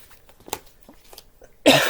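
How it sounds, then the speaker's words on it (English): A single harsh cough bursts out near the end after a stretch of quiet, faint sounds, loud and close. "I'm so sorry with this cough and cold."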